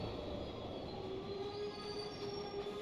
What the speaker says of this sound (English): Whoosh, a train comes in.